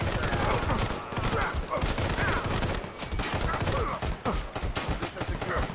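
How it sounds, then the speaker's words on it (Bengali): Gunfire in the mobile shooter game Sniper Fury: loud, dense and continuous, with rapid shots overlapping throughout. "রজনীকান্ত স্যার এরকম গুলি মারতো না"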